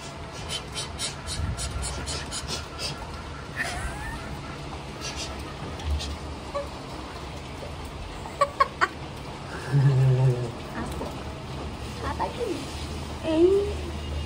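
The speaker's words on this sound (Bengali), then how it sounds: "ওইটা মুরগি ডাকছে।" A chicken clucks and calls close by during a cyclone stay, short bursts standing out over a noisy background while a person talks intermittently.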